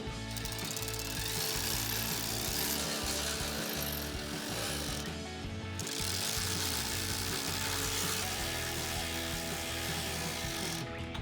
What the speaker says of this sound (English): now we tighten up the bolts for the support bracket that we put up on top of the frame